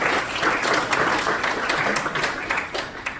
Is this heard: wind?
no